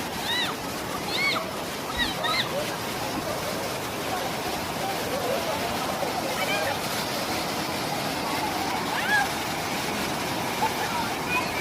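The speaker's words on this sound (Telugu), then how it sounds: "చూడండి ఫ్రెండ్స్ వాటర్ ఫాల్స్ ఎంత బాగున్నాయో" The Ananthagiri waterfall rushes in a constant loud roar of falling water, with people talking underneath.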